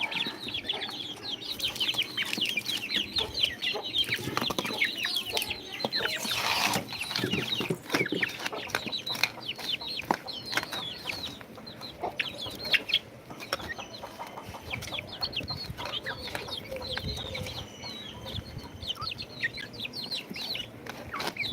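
A flock of country chickens clucks and squawks busily around feed, many close birds calling over one another continuously, with occasional wing flaps and scratching.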